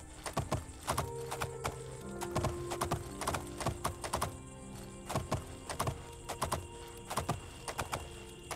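A horse gallops in the video game Oblivion with the Era of Change mod: rhythmic clip-clop hoofbeats in quick repeated clusters, loud and close, with no speech.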